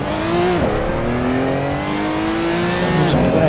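Race car engine in the driving sim Assetto Corsa, rolling round on a warm-up lap: a steady, loud engine drone with harmonics that dip on a shift and then climb smoothly again as it accelerates.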